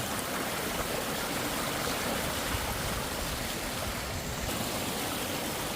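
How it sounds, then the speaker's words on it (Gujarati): A small stream on the trek to Harihar Fort rushes and gurgles continuously, steady and fairly loud with no voices. "અહીંથી થોડુંક ઝરણું છે"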